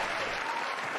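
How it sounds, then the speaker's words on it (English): Dense, steady applause from a crowd fills the whole second at even loudness, introducing a host at the start of a late-night-style talk show. "Thank you for all the applause in the chat."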